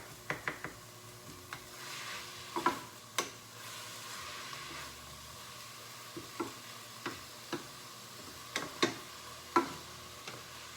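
Chopped spinach stirred into a mushroom cauliflower risotto in a pan: quiet, scattered spoon taps and scrapes against the pan over a soft, low sizzle.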